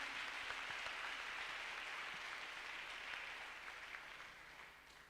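A church congregation at a bilingual Sunday service applauds, giving a steady, fairly faint wash of clapping that slowly tapers off toward the end.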